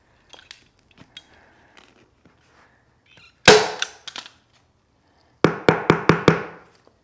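A staple gun firing staples through fabric into a table, one sharp snap followed by a couple of lighter clicks, then a rapid burst of five close, loud staples in quick succession, with faint handling taps beforehand.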